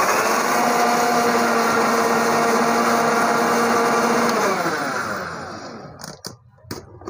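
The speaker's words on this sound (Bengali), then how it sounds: "ঢাকনাটা দিয়ে একটু হালকা ব্লেন্ড করে নিব।" An electric blender with its lid on briefly mixes mayonnaise ingredients. It gives a loud, steady whirring whine for about five seconds, winds down to a stop, and a few sharp clicks follow.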